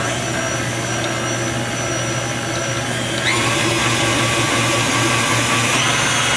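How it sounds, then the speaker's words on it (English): An electric mixer with a whisk attachment whirs steadily through sweet potatoes and sugar, a continuous motor drone that steps up slightly in loudness and pitch partway through, with no talking. "we're going to start with a cup of sugar and the potatoes with a whisk attachment"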